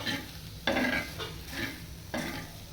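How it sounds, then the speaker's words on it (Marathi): Onions sizzle on a hot griddle with a steady hiss, broken by three bursts of stirring and scraping. "त्यामुळे तव्यावर कांदा ठेवले आहे"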